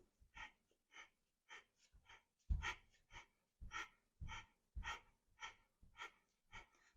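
Sharp, breathy exhalations repeat roughly once per second during mountain climber exercise, each short huff close and clear against near silence, with one heavier gasp midway.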